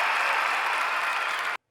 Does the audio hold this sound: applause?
yes